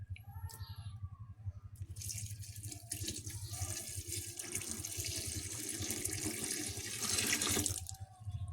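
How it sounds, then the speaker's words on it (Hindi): Water pours into a pot of matar pulao, a rice and pea dish, as a continuous, gushing stream that swells toward the end, after a few light clinks at the start. "ये पानी है, इसको हम शामिल करेंगे।"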